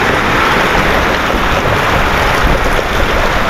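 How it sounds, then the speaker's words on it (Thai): Heavy rain pours down, a loud, dense and steady hiss that fills the whole stretch without a break and with no one speaking. "เดี๋ยวเราใช้สิออกไปเบิ่งฝนก่อนพี่น้องน้ำฝนตกเนาะ"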